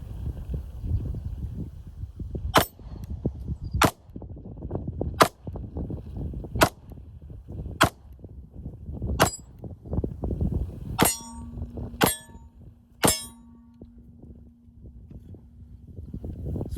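A pistol is fired at a steel target, giving about nine sharp shots with bright metallic clangs spaced roughly a second apart, the last few with a lingering ring, over faint background noise.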